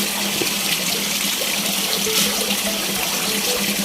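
Tilapia splashing and churning at the surface of a 3 m diameter pond while feeding, a steady close wash of water noise with small splashes throughout, no voices.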